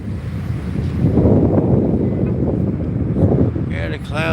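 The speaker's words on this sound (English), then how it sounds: "Oh, you can't hear from the wind." Strong wind buffets a microphone outdoors in a parking lot as storm clouds gather, a continuous loud rumbling roar that swells and eases over the few seconds.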